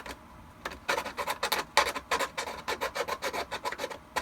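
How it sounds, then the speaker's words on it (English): A metal file rasps against an armor piece in quick, rhythmic back-and-forth strokes, about a dozen distinct scrapes after a brief pause, close and fairly quiet with no talking. "And just start filing it down"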